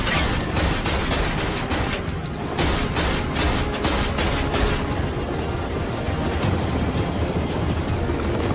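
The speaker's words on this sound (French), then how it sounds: "Prépare-toi à un atterrissage risqué!" A helicopter coming in for a risky landing in an action film gives a loud, close, continuous rotor chop with a fast rhythmic thumping over a rough engine roar.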